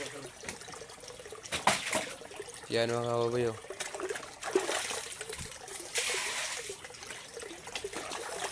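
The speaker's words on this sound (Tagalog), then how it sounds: "Kaya nilagyan na ng tubig mga kababoy." Water pouring and splashing for piglets, an uneven wet trickle under someone talking close by, with a brief tonal squeal partway through.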